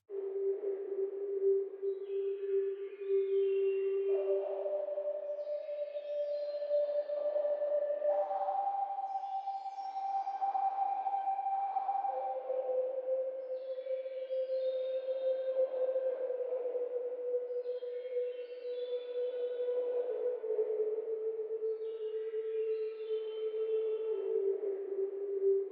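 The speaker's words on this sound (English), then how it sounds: "the Ambience 1, which I created using the free plugin Labs by Spitfire Audio" Soft ambient pad from the free Spitfire Audio Labs plugin, slow sustained synth tones gliding between pitches with shimmering upper layers, quiet and continuous with no voices.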